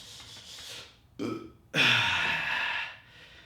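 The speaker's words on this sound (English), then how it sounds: "Got a burp." A person mid-workout lets out a long, close burp after a couple of heavy breaths, the belch rising loud and drawn out before fading.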